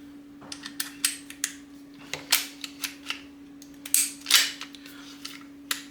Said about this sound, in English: Now you've just got to pop the slide back on.